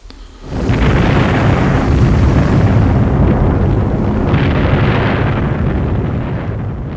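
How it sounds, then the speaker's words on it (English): Bombs falling during a WWII air raid on London make a continuous heavy roar and rumble, loud and dense, swelling in waves over several seconds without a break. "Bombs are also falling on the centre of government."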